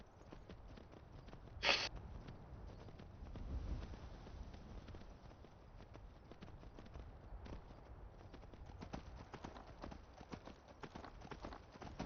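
Quiet, rapid clip-clop of a horse's hooves in a video game runs steadily throughout, a faint galloping rhythm with a soft thump partway through.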